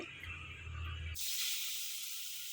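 After a quiet moment, a sudden soft hiss rises as salted, turmeric-coated paneer hits hot ghee in a wok, then a steady gentle sizzle continues.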